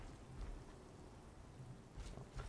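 Steady rain from the Oblivion video game hisses across the whole stretch, a dense, even wash of drops with a faint low rumble beneath it and no voices.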